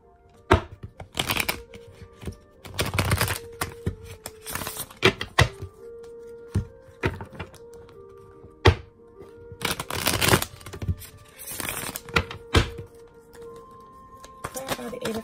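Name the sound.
shuffling a tarot card deck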